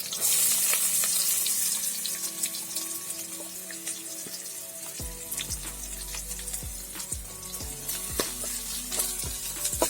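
Long-sliced onion fries in a pan for egg bhurji, with a constant sizzling hiss, a low hum joining partway through, and repeated spatula scrapes and taps over the frying, close and with no talk.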